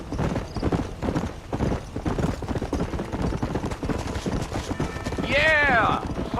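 A galloping horse in Red Dead Redemption pounds out a steady, rapid hoofbeat rhythm close by, with a brief neigh near the end and speech mixed in.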